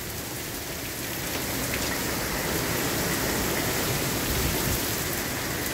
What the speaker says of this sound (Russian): косые линии дождя сейчас льются на землю